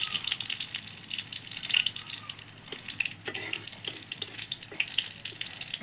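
Crushed garlic fries with black cumin seeds in a pan, giving a steady, fine sizzle and crackle close by, with a few soft stirring clicks and no speech.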